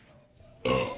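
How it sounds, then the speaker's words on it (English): A single loud, harsh burp after gulping carbonated Sprite, bursting out suddenly after a quiet moment and holding for a rough, sustained belch near the mic. "That's how you burp."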